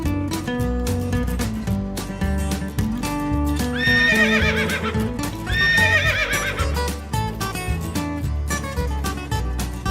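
A horse neighs twice in bright, wavering whinnies over steady clip-clopping hooves, all loud and close against a busy, dense background that continues throughout.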